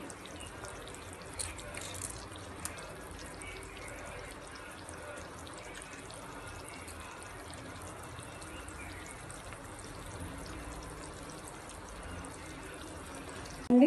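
Salted bitter gourd pieces squeezed hard by hand, juice trickling and dripping out in a steady, soft, wet patter close by, with a brief louder rustle at the very end.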